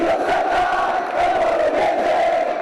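Fans chanting and shouting in unison at a Treviso basketball celebration in the city squares, a dense, loud crowd roar with rhythmic surging voices, sustained throughout.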